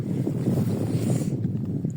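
Spring wind gusts across an outdoor feeder-fishing spot by the water, a steady low rumbling buffet that stays fairly loud and unbroken for the whole two seconds, with no one talking.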